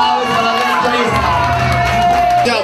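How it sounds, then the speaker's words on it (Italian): Restaurant diners at La Ceragetta erupt in loud cheering, whoops and clapping for a woman doctor, a lively crowd roar carrying over voices throughout. "Un applauso alla dottoressa."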